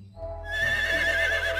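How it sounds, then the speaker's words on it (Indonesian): Horse neighing in one loud, close whinny that swells in and holds a shrill, wavering pitch, heard alone over a faint low hum. "Ini hewan kuda."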